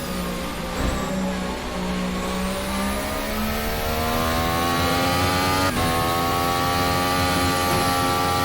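Formula One car in the Assetto Corsa racing game, its engine screaming at full throttle with a steady high whine climbing through the revs, one brief gear-change dip, loud and continuous.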